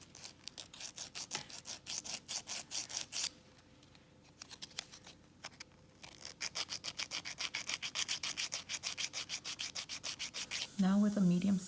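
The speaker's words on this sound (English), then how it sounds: "Now with a medium sanding band, the same one I used earlier, I'm going to go around and clean up around my cuticle." Repeated rasping strokes of a medium sanding band on a nail drill shaping dip-powder nails, close and steady in quick bursts with a brief pause midway, ending in a higher whirring buzz.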